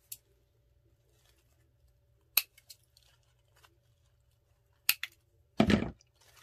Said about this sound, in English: so let me cut this off here